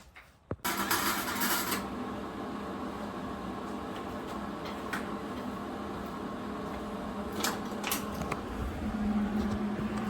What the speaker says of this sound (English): And now we're gonna weld.